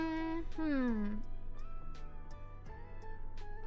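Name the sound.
person imitating a cat meowing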